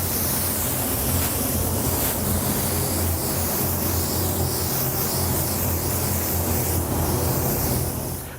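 Spray paint in Daylight Blue is applied to a buoy, producing a loud, continuous broadband hiss that holds steady throughout and cuts off at the end.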